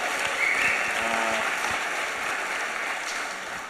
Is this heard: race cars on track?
no